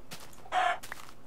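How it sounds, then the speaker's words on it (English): Minecraft chicken sounds in a hardcore game world, with a few short, soft clucks followed by one louder clucking call near the middle, all set against quiet background. "Hello, chicken."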